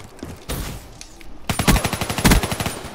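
Weapon fire in Call of Duty: Black Ops III multiplayer, a couple of isolated shots followed by a loud, rapid automatic burst of about a dozen evenly spaced rounds.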